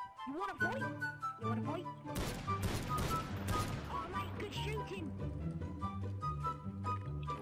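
Gunfire in the Garry's Mod City Life roleplay game, with several sharp shots ringing out amid in-game music and voices talking over them.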